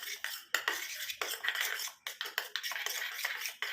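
Castor oil and vaseline mixed in a small bowl, quick close clinks and scrapes of a spoon against the dish in an uneven run, fairly quiet.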